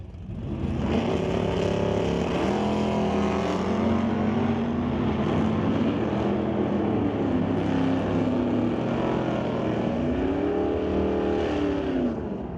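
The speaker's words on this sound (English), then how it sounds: "Racing Dell Northgraves in the Nova with that 414 small block Chevy motor." A Chevy Nova with a 414 small block and a 1983 Chevy Monte Carlo drag race down a quarter mile, their engines roaring loud and sustained with rising and falling revs as they accelerate, with no talking over the noise.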